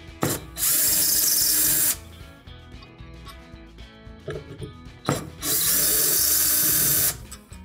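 Power drill backing out two T15 screws from a Viking cooktop burner base: two loud sustained whirring bursts, each starting and stopping sharply, with quieter handling rattle between them.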